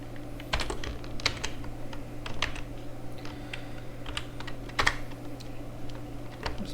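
Someone types on a computer keyboard, making soft, irregular key clicks close by over a low steady hum, with no talking.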